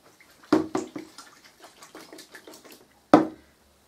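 A wooden item is dipped into water after brushing, giving a couple of sharp splashy knocks with small trickling drips between, close and alone.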